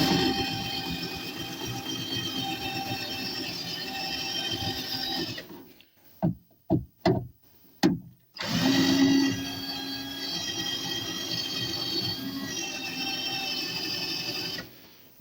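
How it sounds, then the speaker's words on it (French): Parkside power drill running in short bursts while replacing a faulty rear window regulator on a Peugeot 306, a steady whirring stretch, then several brief stop-start pulses, then whirring again, close and fairly loud. "on va essayer de percer avec perceuse Parkside"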